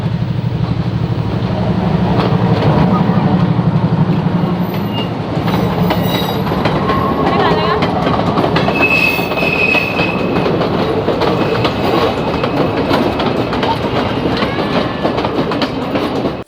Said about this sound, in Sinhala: මෙන්න මේ කෝච්චිය තමයි වෙලාවේ ආවේ.